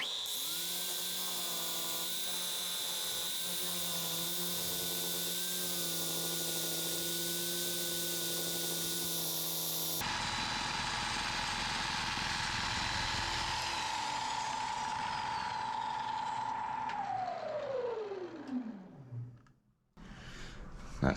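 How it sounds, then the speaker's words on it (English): Mega Sander power sander spinning a new 7-inch lamb's wool pad to polish a turned spalted apple burl bowl, giving a steady motor whine with strong harmonic hum, shifting tone partway, then winding down and stopping near the end. "I'm going to use this brand spanking new 7-inch lamb's wool pad on the Mega Sander to polish this to within an inch of its life"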